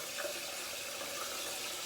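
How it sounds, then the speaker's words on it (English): Tap water running steadily into a sink for rinsing after a straight razor shave, a continuous close hiss of flowing water for about two seconds. "I'm gonna rinse."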